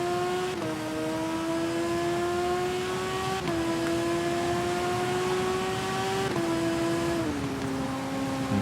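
Motorcycle engine in the TT Isle of Man racing video game on the Antrim speed track, a loud, steady high-pitched whine that climbs through the revs, drops briefly at each gear change, then climbs again.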